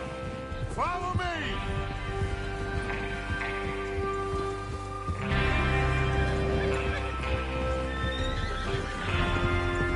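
Horses whinny loudly several times over a steady clip-clop of hooves, with rustling ambience throughout, in the video game Red Dead Redemption 2; a rider's voice may murmur briefly beneath.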